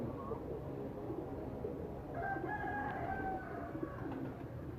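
Imamdeen breed pigeons cooing softly nearby, low murmuring coos over a faint background with a few higher bird calls in the middle.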